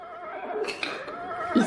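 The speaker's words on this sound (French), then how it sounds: "Donc, là, il y a le bruit du cheval." An animal sound toy plays a horse neigh, a short whinnying call with a rising, wavering tone and a thump near the end, fairly close and alone.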